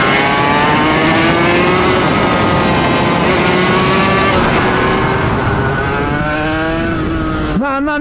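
A Suzuki RGV 250 two-stroke motorcycle engine revs hard and loud nearby, its pitch climbing and falling through sustained high-rev sweeps, with a sharp rise in the final second.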